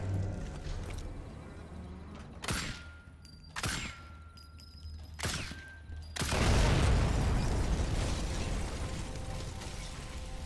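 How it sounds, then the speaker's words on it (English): Explosions in a first-person shooter video game: three sharp blasts in quick succession, then a louder, rumbling boom that rolls on and fills the rest of the clip, with no talking. "Who's hearing the explosion?"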